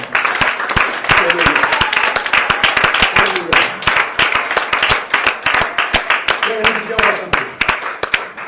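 A church congregation claps in a quick steady rhythm, many hands together, and a voice speaks and calls out over the clapping.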